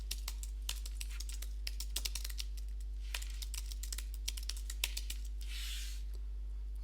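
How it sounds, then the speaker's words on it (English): Fingers tap out a message on a computer keyboard, a run of quick, light, irregular key clicks close by over a low steady hum, with a brief soft hiss near the end. "I can also quickly type out a message"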